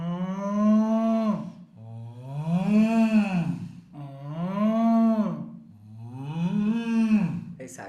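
A human voice hums a sustained M sound imitating a cow's moo: four long, loud, close, rising-and-falling hummed tones with brief breaths between them and no other talk.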